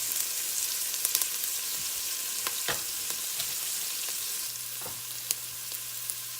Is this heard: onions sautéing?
yes